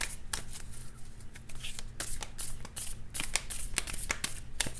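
Close, crisp riffling and snapping of playing cards being shuffled, in quick bursts with short pauses between, against a quiet low hum.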